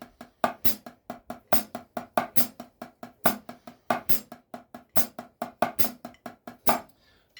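Drum kit playing an advanced group-1 sticking pattern with the hi-hat holding a steady quarter-note pulse, a fast run of close, crisp strokes and accents for about seven seconds, then stopping.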